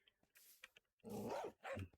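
A dog barks in a Minecraft game, a few short woofs early on followed by two louder, longer barks, close and clear with no talking over them.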